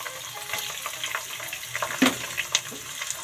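A cup of onions frying in hot ghee for restaurant-style pulao, with a steady close sizzle and crackle broken by brief spatters and stirring clatters, no talking.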